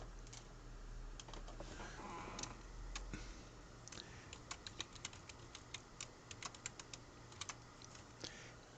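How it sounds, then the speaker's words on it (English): Typing on a computer keyboard, a run of quick, irregular key clicks fairly close over a steady low hum, with no voices. "Helps when I can type."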